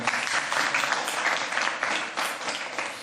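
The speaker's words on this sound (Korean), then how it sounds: "큰 박수를 쳐드리면서 이걸로 마무리하겠습니다" Steady, full applause from a seminar audience at a logistics seminar, continuous dense clapping at moderate loudness with no voices over it.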